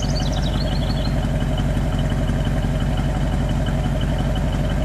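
A car engine with optional dual exhaust idles steadily, a close, even low rumble with a regular pulsing beat that holds unchanged throughout.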